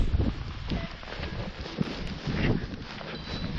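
Steady wind buffets a microphone at a paragliding takeoff site, a continuous roaring rush with gusty swells and no speech.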